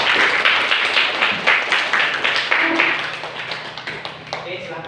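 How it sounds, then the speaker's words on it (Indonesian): Classroom of high school students claps for presenting groups, a dense burst of hand claps that thins out and fades over several seconds, with some voices mixed in. "Sebelumnya kita berikan aplaus untuk kita semua."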